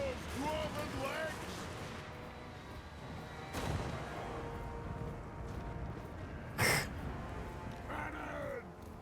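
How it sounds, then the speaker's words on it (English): Cannon fire from a dwarf army battle in Warhammer 2: Total War, with a sharp booming blast around the middle and another near the end, over continuous battle din and voices. "Cannon!"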